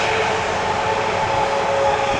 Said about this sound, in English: So there's Lufthansa A320neo.